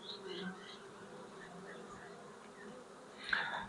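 Honey bees crawl over a drone brood frame during a hive inspection, giving a faint, steady buzzing hum that swells into a louder burst of wingbeats near the end. A faint voice may sit low underneath.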